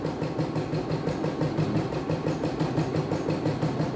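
A multifunction embroidery machine running at speed 150, a steady, even mechanical drone with a fast repeating pulse, constant and close, no voices over it.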